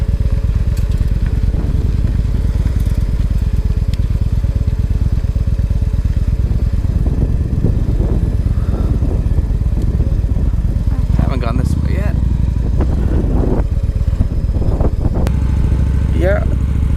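A motorcycle engine runs steadily and loud throughout a short ride, its rumble continuous with rising and falling revs, an occasional nattering rattle, and some wind and road noise mixed in.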